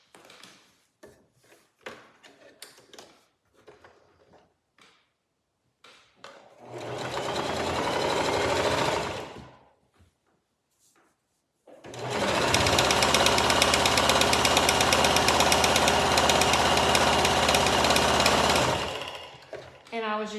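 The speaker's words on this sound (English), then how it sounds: "Now you're going to sew a straight stitch all the way down the folded edge." Sewing machine running a straight stitch down the folded edge of a pillowcase, heard in two loud sustained bursts, one short and one long, with brief quiet handling sounds and pauses between.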